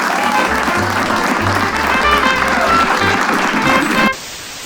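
Audience applause for a stand-up comedian taking the stage at a comedy show, dense steady clapping with low rumble lasting about four seconds before cutting off abruptly.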